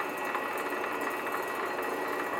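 A Grizzly 60768 lathe spins steadily at about 178 RPM during a painting job, giving off a constant mechanical whir with a broad motor hiss that stays at an even level the whole time.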